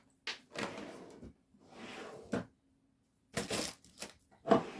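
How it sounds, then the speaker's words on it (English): Drawers slide open and shut in several scraping bursts with short gaps, one ending in a sharper knock, close by and with no talk over them. "sorry, you can hear me sliding my drawers."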